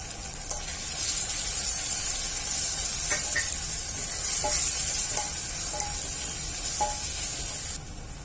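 Dry coconut, cumin and garlic pounded in a mortar and pestle frying in hot oil, with a constant crackling sizzle and several light stirring taps of a spoon, heard close up with no talking.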